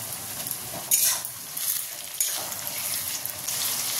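Chopped tomatoes go into browned onions frying in a pan for mutton curry, giving a soft, steady sizzle broken by a couple of sharper hissing bursts and light utensil clatter, with no talk.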